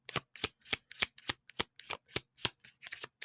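A deck of Botanical Inspirations tarot cards is shuffled by hand in quick, regular riffles, about a dozen crisp papery bursts in a steady rhythm, close and clear with nothing else underneath.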